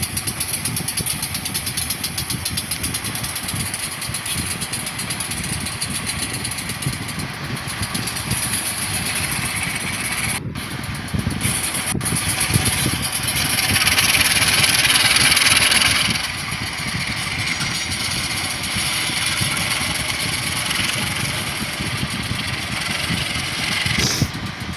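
A train locomotive's diesel engine idles in a train simulator game, a loud, steady low rumble with knocking vibration and brief hissing bursts, with no talking.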